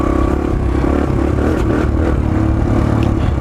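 A Suzuki DR-Z 125L dirt bike engine revs while riding, a steady, close mid-pitched buzz with faint clatter and shifts in pitch as it works through the gears, with no talking.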